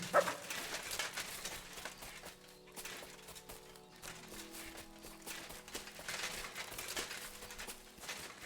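A dog in Kingdom Come Deliverance 2 barks repeatedly in short, irregular bursts over a steady bed of game music and ambience, moderately loud and fairly close.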